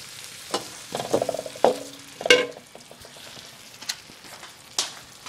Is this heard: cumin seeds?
yes